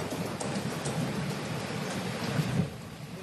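Heavy monsoon rain in North Sikkim near the swollen Teesta river, a steady dense wash of downpour with a few louder gusts and no voices, held at an even level throughout.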